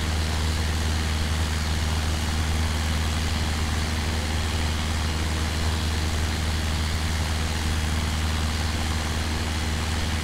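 A steady low engine drone from an aircraft in flight over Milford Haven, a constant loud hum with a strong low tone and broadband noise above it, unbroken and with no voices.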